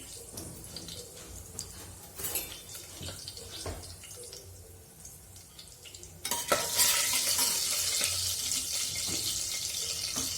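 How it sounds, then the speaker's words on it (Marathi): Mustard seeds and cumin spluttering in hot oil for a village-style chuka varan, a close, steady sizzle with stirring clatter that swells noticeably louder and denser partway through, no voices. "त्यामध्ये मी 1 चम्मच मोहरी आणि 1 चम्मच जिरा घालायचे। ते छान तडतडू द्यायचा।"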